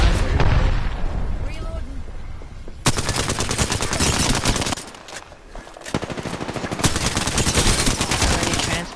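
In a ranked online shooter match, loud automatic gunfire rattles in bursts with booming impacts that fit a grenade blast, dense and close, briefly dropping out midway before resuming.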